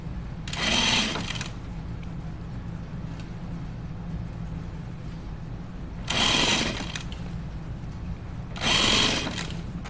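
A home sewing machine that leaves long thread tails runs in three short bursts of rapid whirring stitches with quiet pauses between, close by over a low steady room hum.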